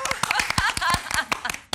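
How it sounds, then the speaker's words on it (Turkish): A Turkish magazine TV show's studio audience claps, a quick run of sharp, close handclaps with uneven rhythm, tapering off briefly at the end. "Tabii bu alkışlar en çok da izleyicilerimize gelsin"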